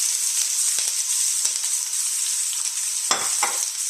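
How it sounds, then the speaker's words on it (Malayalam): Finely chopped onions (savala) frying in oil for Chinese fried rice, a loud, continuous crackling sizzle up close, with a few brief stirring knocks against the pan, no talking. "അതിലേക്ക് ഞാൻ സവാള അരിഞ്ഞ് വെച്ചത് ചെറുതാക്കി അരിഞ്ഞതാട്ടോ ഇട്ട് കൊടുക്കുന്നുണ്ട്."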